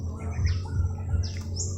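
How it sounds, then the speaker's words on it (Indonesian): A black-winged myna (jalak kebo) feeding its chicks gives two loud, close chirping calls over a low, steady background hum. "saya akan membahas bagaimana jalak kebo meloloh anakannya"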